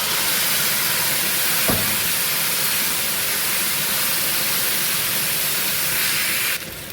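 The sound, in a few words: tempering spluttering loudly in hot oil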